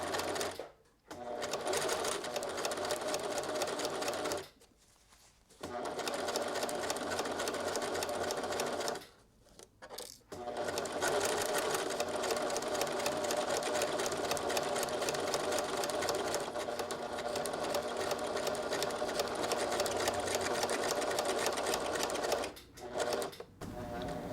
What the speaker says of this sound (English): Sewing it together, we're starting at the side seam now, and you're lining up here with a 1 centimeter seam allowance.